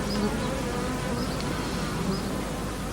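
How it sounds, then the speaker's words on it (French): Bees gathered in a damp tray drone continuously, a dense, steady buzz of many insects heard up close and alone. "Henri Cibrario attire les abeilles dans un bac humide"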